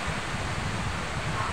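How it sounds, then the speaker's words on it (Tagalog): Howling wind gusts during a rainstorm, a steady, moderately quiet broadband rush like surf or rustling leaves, with no talking. "umuugong ang hangin guys ba"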